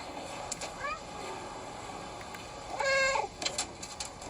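A cat meows in the video game Stray, with two short mews against a steady low background hum, the second one louder and more drawn out.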